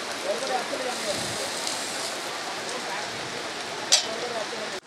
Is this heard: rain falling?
yes